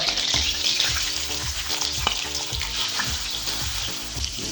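Steady, crackling sizzle of ghee in a hot wok, loud and close, with occasional scrapes and clinks of a utensil stirring.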